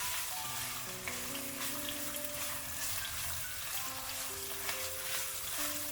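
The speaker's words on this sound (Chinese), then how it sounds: "将肉末炒散炒香" Minced pork stir-fried in hot oil in a wok, a constant dense sizzle with the scrape of stirring, and a soft melodic tune playing underneath.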